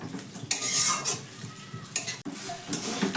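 Spiced potato filling for a fried snack being stirred in a pan, a spatula scraping and clinking against the metal in bursts, with a faint sizzle beneath, close and fairly loud, no voices.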